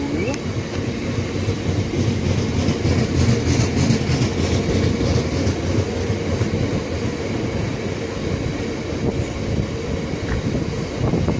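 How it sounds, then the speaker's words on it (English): A class 360 electric train rumbles steadily past close by at Southall, a dense continuous roar of wheels and motor with faint rhythmic clatter throughout. "And we have a Heathrow Connect, class 360"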